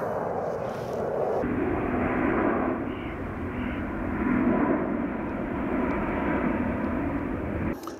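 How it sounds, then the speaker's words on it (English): A propeller airplane drones overhead, a steady broad rumble that swells and fades slightly as it passes, heard alone with no talking. "Another plane."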